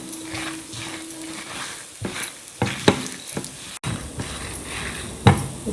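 Pepper, cumin and fenugreek dry roast in a pan, crackling and sizzling with repeated scraping stirs and a few sharp knocks against the pan, close and fairly loud.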